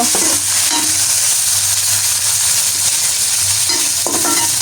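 Garlic, fenugreek and tomato frying in a pan on a gas stove, with a loud, steady sizzle and the repeated scrape of a spoon stirring close by, with no voices.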